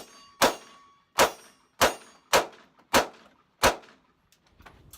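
Six sharp gunshots from a Smith & Wesson Shield 2.0 9mm pistol crack out at a steady pace over about four seconds, each loud and close with a short ringing decay.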